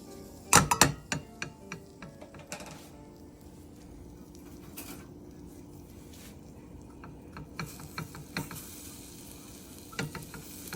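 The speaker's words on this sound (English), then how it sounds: "I'm going to saute these in 1 tablespoon of the stick of butter" Ground dried morel mushrooms sautéing in a tablespoon of butter, with a quiet steady sizzle under sharp clinks and stirring clatter from a utensil against the pan, loudest near the start.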